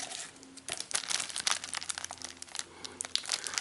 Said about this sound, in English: There you go, it comes in this transparent plastic bag.